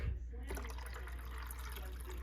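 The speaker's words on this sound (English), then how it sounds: "So then we dump the water on this side." Water is poured into the reservoir of a Mr. Coffee Iced and Hot coffee maker, a soft close trickle and splash of filling liquid under a quiet hum.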